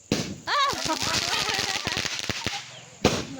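Diwali firecrackers burst in a rapid string of sharp cracks and pops close by, with excited voices talking and shouting over them.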